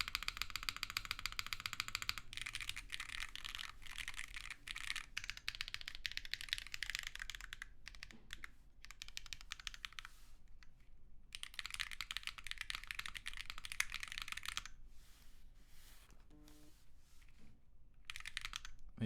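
Fast typing on a Deacon prototype mechanical keyboard fitted with SWG Beige switches, close and crisp. Bursts of rapid keystrokes run with brief pauses between them.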